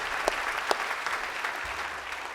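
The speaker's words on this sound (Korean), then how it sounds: "여러분 축하와 격려 박수 한번 해드리시겠습니다" A church congregation claps in applause during a Korean sermon, a dense steady patter of many hands with a few sharper individual claps standing out near the start.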